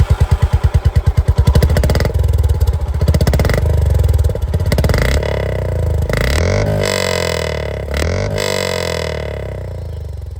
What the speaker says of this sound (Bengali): দুটোর এক্সস্ট সাউন্ড। স্টার্ট করি উইথ হন্ডা CB350